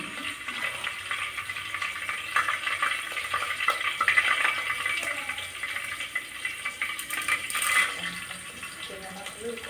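Oil heats and fries in a pan while coconut chutney is made, a steady crackling sizzle with occasional light clinks and stirring noises close by.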